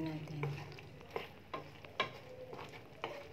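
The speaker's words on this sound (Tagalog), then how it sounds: "Haluin natin." Guava sauté being stirred in a pan, with scraping and clinking strokes of a utensil over a soft, steady frying sizzle, close and fairly quiet.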